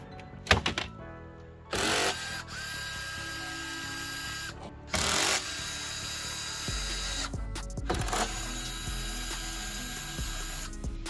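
Bolts holding the grille of an MK6 Jetta are worked loose with a ratchet, giving several short bursts of close mechanical whirring and clicking separated by quieter gaps with low background hum.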